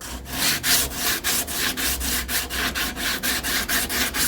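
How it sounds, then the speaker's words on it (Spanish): Car body filler is sanded with a rubber sanding block, producing a close, steady back-and-forth rasping stroke repeated rhythmically about four times per second, with no speech. "El otro paso es usar un taco de goma para que podamos hacer las curvas."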